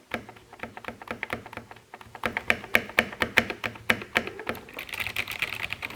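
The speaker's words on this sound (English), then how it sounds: "This is the space bar." Space bar on a Royal Kludge RK71 mechanical keyboard, pressed repeatedly in a quick, fairly even rhythm of sharp clacks. The presses grow a little louder and denser toward the end, with no voices.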